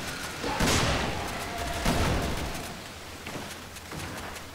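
Rapid gunfire in the shooter Resident Evil 6, a cluster of sharp, loud shots at the start followed by a few more spaced bursts over a steady game background.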